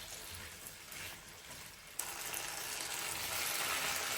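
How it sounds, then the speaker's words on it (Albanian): Potato and dried meat filling frying in a non-stick pan, giving a steady soft sizzle and hiss that grows slightly louder after a brief scrape partway through, close and fairly quiet. "E përzina masën dhe masën përsëri e fërgoj dikon për 7 ose 8 minuta tjera duke e përzier vazhdimisht"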